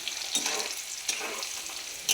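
Chopped garlic sizzles and crackles in hot oil in a pan, a steady close frying hiss with a few louder bursts as it is stirred, part of making chilli chicken.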